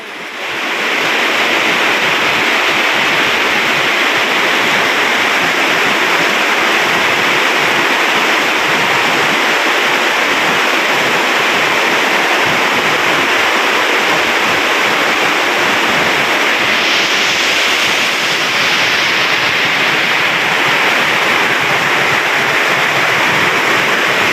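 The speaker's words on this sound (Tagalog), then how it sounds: "ganito pala dito pag malakas ang ulan tapos mahangin" Heavy, steady rain roars without a break in the rural countryside, a dense broadband wash with gusty wind noise mixed in, loud and close throughout.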